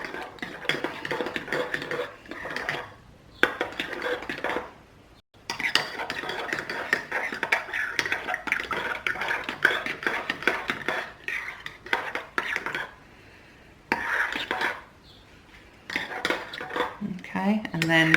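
Pizza dough ingredients, flour with honey or sugar, mixed by hand in a bowl, giving repeated scraping and clinking of a utensil against the dish, with short pauses between bursts, close and steady throughout.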